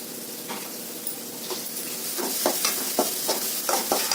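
Ginger garlic paste frying in hot oil while being stirred for gobi manchurian, a steady close sizzle with repeated scraping stir strokes growing busier toward the end, no voices.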